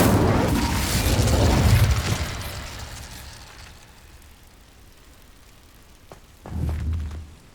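The Incendio fire spell in Hogwarts Legacy goes off with a loud rushing burst of flame and booming impact that fades into a quiet tail, followed by another deep thump near the end.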